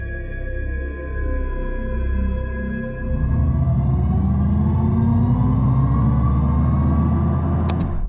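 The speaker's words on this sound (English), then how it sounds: "it's like a futuristic noise that has been developed by a sound specialist and a computer nerd, and it's a bit odd" An Audi RS e-tron GT emits its synthetic, futuristic driving sound, a sustained electronic hum with rising whining tones that swells as the car accelerates.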